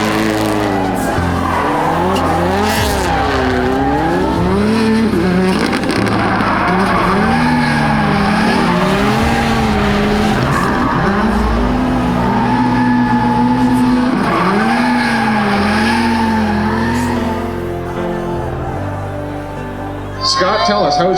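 A car driven hard through corners, its engine note swooping up and down as tires squeal and skid, loud and close for the whole stretch before easing at the end.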